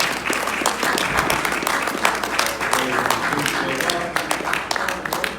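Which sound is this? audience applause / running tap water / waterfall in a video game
audience applause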